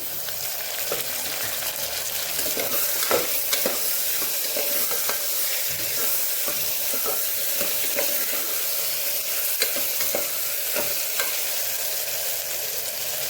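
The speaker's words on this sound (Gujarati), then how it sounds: "આદુ મરચાંની પેસ્ટ સતળાઈ જાય પછી આપણે ટમેટાને ઉમેરી દઈશું" Ginger and chili paste sautéing in a pan for a tomato and sama-rice khichdi, a steady close sizzle and fry with occasional stirring scrapes, no one talking.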